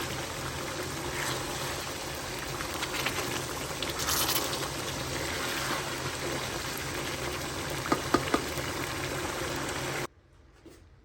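Water in a pot of yakhni pulao bubbles and simmers as it cooks down, a steady close hiss with occasional pops that stops abruptly near the end.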